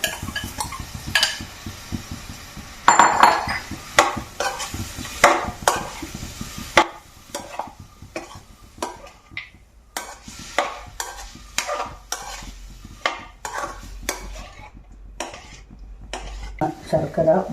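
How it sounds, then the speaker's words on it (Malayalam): Gooseberries are stirred in thickening jaggery syrup in a pan, a utensil repeatedly clacking and scraping against the metal in brisk, uneven strokes, with a soft bubbling underneath. "ശർക്കര വറ്റുന്നത് വരെ നമ്മൾ ഇങ്ങനെ ഇളക്കിക്കൊണ്ടിരിക്കണം"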